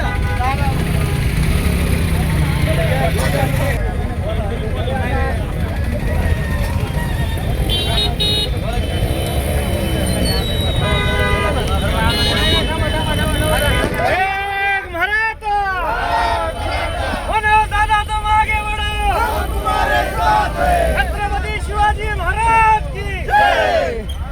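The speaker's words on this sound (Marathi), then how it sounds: "आपण पाहू शकतोय की हा सगळा जल्लोष या ठिकाणी व्यक्त होतोय" In a street in Kej, a crowd celebrates Maratha reservation amid steady traffic, with car horns tooting repeatedly over a dense, continuous babble of voices.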